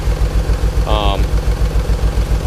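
Nissan 300ZX engine running close and loud with a steady pulsing idle throb, a short high whine cutting in briefly partway through.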